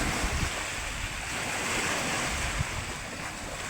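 A strong amihan monsoon wind blows across the sea at a seaweed farm while waves surge steadily. Gusts hit the microphone as a broad, loud roar, with no voices.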